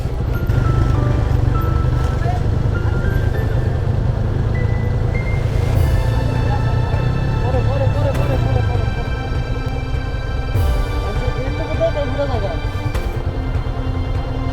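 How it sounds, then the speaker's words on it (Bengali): A vehicle engine-brakes down a steep road on a trip toward Tindu, giving a steady, loud, low engine drone and whine throughout, with people talking over it. "ইঞ্জিন ব্রেক করে করে নামতে হচ্ছে।"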